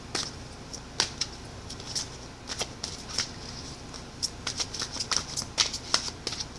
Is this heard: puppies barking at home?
no